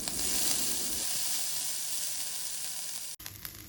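Ginger dropped into hot oil with mustard seeds for a South Indian tempering, producing a loud, close, continuous sizzle and hiss that settles slightly before a brief break and a renewed crackle.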